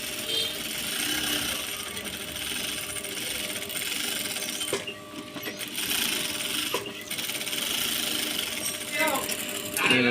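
A sewing machine runs a double seam while stitching a salwar, a steady mechanical whirr with brief stops and restarts midway, then continuing to run near and loud.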